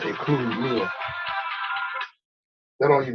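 A mobile phone ringtone sounds with a repeating melodic pattern, cutting off abruptly and then starting again after a short silence, clear and close.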